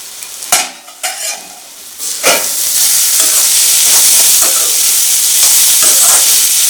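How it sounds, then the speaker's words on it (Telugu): Small bitter gourd pieces frying in oil, with a few scraping stirs of a spoon in the pan at the start, then a loud continuous sizzle. "కాకరకాయ ఫ్రై చేసేటప్పుడు ఫస్ట్ ఆయిల్ ఫ్లేమ్లో పెట్టి ఫ్రై చేస్తే కనుక కాకరకాయలో ఉన్న చేదు తొందరగా పోతుంది."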